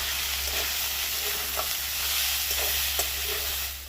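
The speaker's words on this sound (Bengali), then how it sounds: "এবার একসাথে সবকটাকে ভেজে নেব" Fish chop mixture with coriander leaves frying together in a pan, a constant close sizzle with a few scraping stirs of a spatula breaking through.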